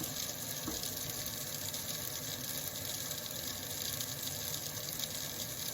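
Water runs steadily from a faucet through a mounted Brita filter in a continuous, even rush, close by, with no voices.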